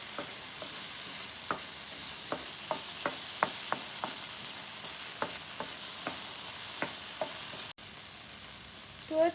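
Tomato thokku cooks in oil in a pan, a steady low sizzle running under repeated sharp scraping taps from a stirring spoon, with one louder clatter near the end; no voices.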